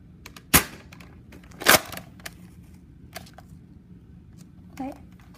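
A Nerf Mega Magnus toy blaster fires with two sharp, close pops about a second apart, amid handling clicks and rattles, and a voice briefly near the end.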